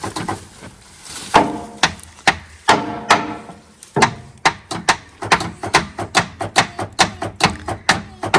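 A hammer strikes metal on a Freightliner FLD truck with a Caterpillar 3406E engine, a long run of sharp, evenly paced blows that comes close and loud with little pause between hits.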